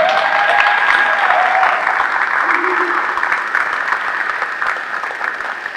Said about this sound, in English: can we give these two gentlemen a round of applause?